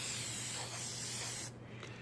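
Aerosol can of chalk pastel fixative sprays in a steady, loud hiss for about a second and a half, then cuts off abruptly, leaving faint residual sound.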